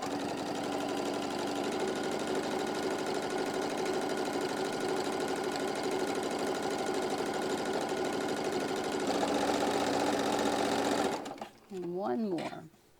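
A sewing machine stitches fabric pieces together in a steady, close, continuous whir that runs for about eleven seconds before stopping, followed by a brief spoken voice.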